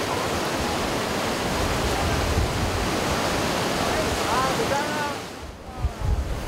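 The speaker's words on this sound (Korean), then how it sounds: "(68m) 높이의 폭포가 90도 수직으로 암벽을 때리며 떨어지는 모습이 장관이다." Changbai Waterfall, a 68 m vertical fall of water pounding onto a rock face, gives a loud, steady broadband roar that fills the scene, easing off briefly near the end before low rumbles return.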